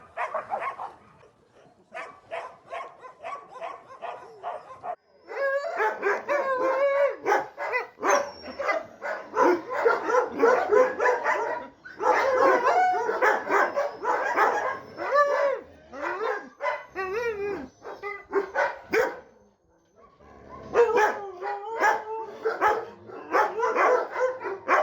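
A thin dog barks loudly and close in rapid repeated bursts, mixed with higher yips and whimpers, broken by a few short pauses.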